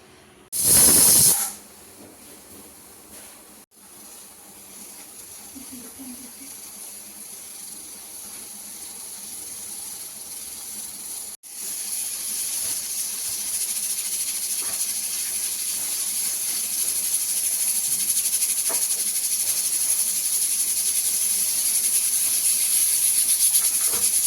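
A pressure cooker holding mutton curry hisses steam: a brief loud burst near the start, then a long, steady, rising hiss that fills the rest of the clip, with no voices.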